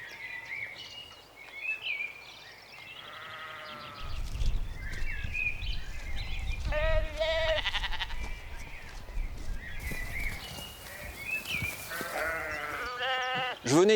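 Ewes bleat repeatedly on a farm in rural Haute-Loire, France, with several wavering calls at different distances over a steady low background rumble.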